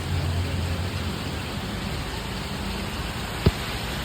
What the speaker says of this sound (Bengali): কিন্তু এখন এখানে বৃষ্টি হচ্ছে।